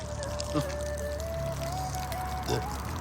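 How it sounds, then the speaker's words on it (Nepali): Snowmelt water runs down from above in Korea in a continuous light trickle and pour, faint and steady, with a couple of brief knocks and a thin tonal hum in the background. "पानी बजिरहेको छ"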